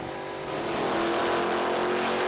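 Trans Am TA2 race cars roar past a trackside camera at Portland in a steady, loud engine drone that swells after the first half second and stays strong to the end.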